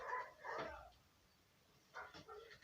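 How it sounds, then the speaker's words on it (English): Two short bursts of dog barking, somewhat muffled and distant, separated by a brief quiet gap. "There's somebody walking past with dogs going crazy."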